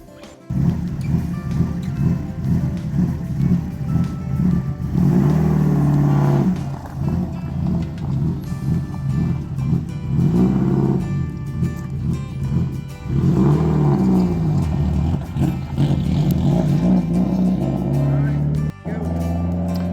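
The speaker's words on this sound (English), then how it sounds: "you can get a feel for what one of the cars will sound like" A rally car engine revs hard and repeatedly, rising and falling in bursts, loud and close, with voices talking at times underneath.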